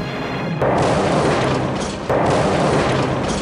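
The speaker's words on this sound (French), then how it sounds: "À 1h23 44 secondes, c'est l'explosion." Chernobyl nuclear reactor explosion sound effect: two loud, sustained roaring booms, the first starting at about half a second and the second near two seconds, each a broad rumbling blast with no voices.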